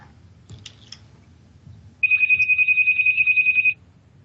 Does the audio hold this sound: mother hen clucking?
no